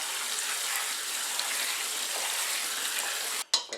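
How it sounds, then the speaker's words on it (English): Water runs steadily over wild muscadine grapes in a colander, a dense close hiss that stops abruptly near the end with a few clattering knocks. "just go ahead and just give it a good rinse"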